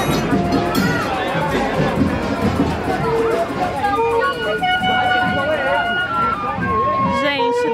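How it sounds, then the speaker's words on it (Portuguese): A pre-carnival street bloco in Rio de Janeiro passing by, with a dense crowd hubbub, music and shouting close by, and people talking over the noise. "Olha o bloco, tá passando ali"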